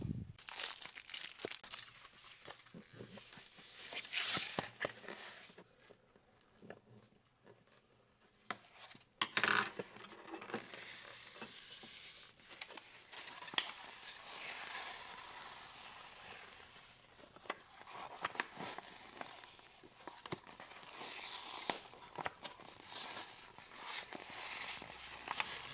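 Cut craft vinyl is weeded from its backing sheet, with quiet close crinkling, peeling and soft tearing sounds in scattered bursts over a low background.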